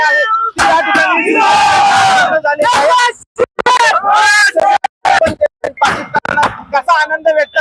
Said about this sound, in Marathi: आपण पाहतो या ठिकाणी शिवसैनिक जे आहेत ती जोरदार जल्लोष या ठिकाणी